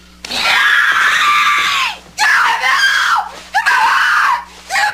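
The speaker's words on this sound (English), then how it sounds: "That anguish scream we all remember so well" Anguished screaming from a dramatic film scene: three long, loud, strained screams, each held for a second or two with brief breaks between, and no talking.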